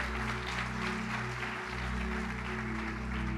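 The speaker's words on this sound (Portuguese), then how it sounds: "Pode aplaudir a Jesus por isso." A congregation at a church service applauds continuously in a steady, moderately distant wash of clapping over a low hum.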